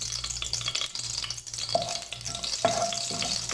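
Bay leaf and cumin seeds sizzle in hot cooking oil, a steady crackling fry with light stirring scrapes and a couple of soft clinks from the pan, no voices over it.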